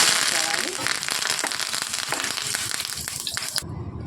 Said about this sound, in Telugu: ఈ వేడిగా ఉన్న ఆయిల్లోనికి కొద్దిగా కరివేపాకు వేసుకొని వేయించుకోవాలి